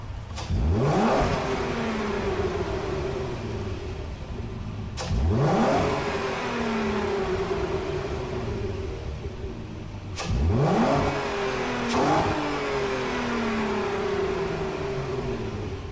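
An Audi TT in Gran Turismo 7 revs up and through the gears in three repeated runs, each a rising engine whine with quick shifts, steady and fairly close, with no voices.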